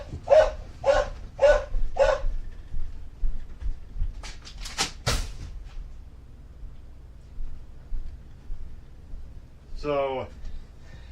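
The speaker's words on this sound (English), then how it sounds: "Sorry for the dog." A dog barks four times in quick succession, fairly close and loud, on an icy winter morning, followed by someone talking.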